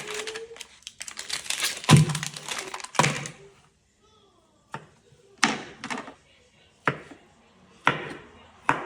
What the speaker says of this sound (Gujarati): ચાલો તો નેક્સ્ટ હવે આપણે સોસેજને કટ કરી લઈએ